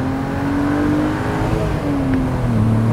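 A BMW Z3 3.0i preproduction roadster's inline-six revs steadily under acceleration, a loud continuous engine drone rising in pitch from the cabin with no talk over it.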